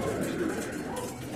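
Pigeons being tended by a racing-pigeon keeper coo softly and steadily at close range, a low murmuring burble that runs continuously with no pauses.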